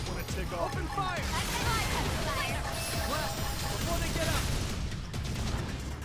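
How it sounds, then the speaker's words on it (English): Video game gunfire, rapid bursts and booms rattling continuously under an excited voice talking over the action. "Open fire!"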